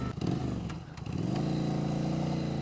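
A 1988 Yamaha XV1100 Virago motorcycle engine runs loud and close, with a brief dip before settling into a steady, throbbing idle with a low, pulsing V-twin rumble.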